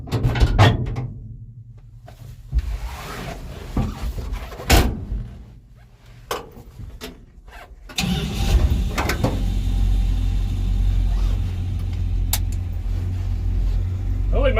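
Car with a rebuilt Dodge 318 engine: doors shut and handling thumps, then the engine runs as a steady low rumble for the final seconds as the car pulls away.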